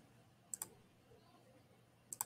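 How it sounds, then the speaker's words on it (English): A computer mouse clicks while a user works in TinkerCAD: two quick double clicks, one near the start and one at the end, quiet and close with no talking. "and just keep clicking"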